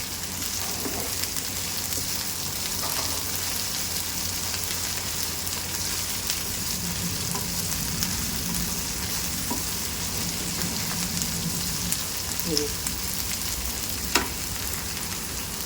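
Sliced okra fries in a hot pan with a steady, soft sizzle and crackle, interrupted now and then by faint scraping as it is stirred with a spatula.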